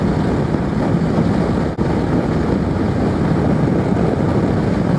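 A Vespa GTS 125 scooter rides at speed with continuous loud wind rush and a broad steady drone that stays constant throughout, with no talking.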